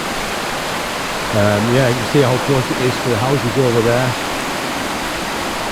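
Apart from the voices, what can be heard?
flooded river rushing at Barnard Castle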